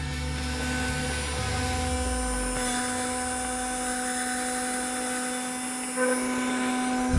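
A small motor in a 3D-printed candy dispenser whirs as it turns its gear through a revolution, starting with a downward-sliding pitch and then holding a steady close mechanical hum.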